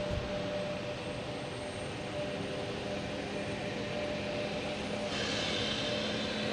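A FedEx small propeller plane at Logan Airport gives a steady, fairly distant engine drone throughout, with a faint tonal hum and a slight brightening of the noise near the end.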